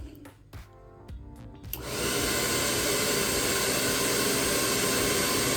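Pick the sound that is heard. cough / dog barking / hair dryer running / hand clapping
hair dryer running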